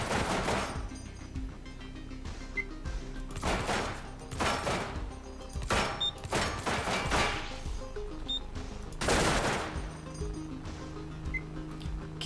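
Repeated heavy shots ring out in the video game Receiver, loud impacts spaced a second or two apart over a steady background hum, each with a brief crashing tail.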